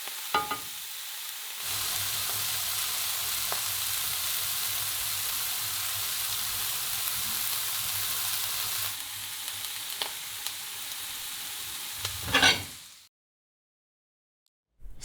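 Oyster mushrooms sauté in a pan for a soup, giving a steady, close sizzle that runs evenly, stops briefly with a clatter, and ends in silence.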